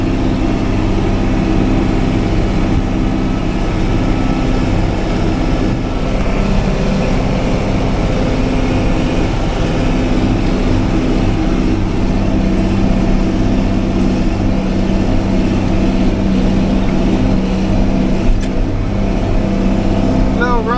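Big John Deere 8560 tractor engine working hard while pulling a chisel plow through a field, a loud, steady low-pitched drone with constant rumble that holds throughout without pause.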